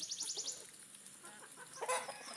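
Soft, scattered clucking from chickens eating feed, close by, with brief higher chirps and a busier burst near the end; no talking.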